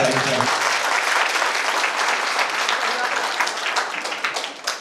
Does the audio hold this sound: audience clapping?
yes